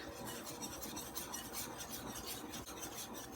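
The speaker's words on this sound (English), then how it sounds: "Give that a quick whisk" Self-rising flour and sugar are whisked in a large bowl, a quiet, steady scratching and swishing with a quick repeating rhythm, close and alone.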